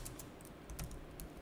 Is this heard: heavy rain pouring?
no